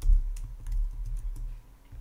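Rapid, uneven clicking of computer keys typed close to the microphone, with no voices, during a Python programming session on a computer.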